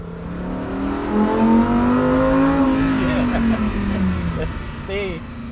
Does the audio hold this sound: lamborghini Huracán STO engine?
yes